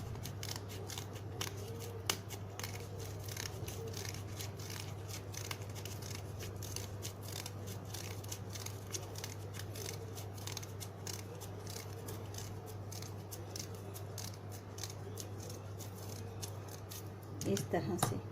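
Scissors snip steadily through a paper circle, cutting it into a spiral for a festive bandhanvar, with repeated close crisp cuts over a constant low hum and some background talk.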